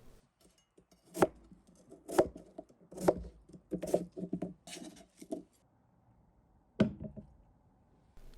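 Potatoes and vegetables are chopped on a cutting board for braised chicken, with about seven sharp, close knife strikes in an uneven rhythm followed by a quiet pause and one last chop.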